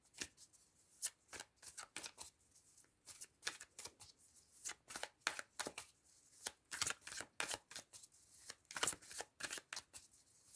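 Tarot cards shuffled by hand at close range, a long run of soft quick riffling snaps and slaps in an uneven rhythm, alone and fairly faint.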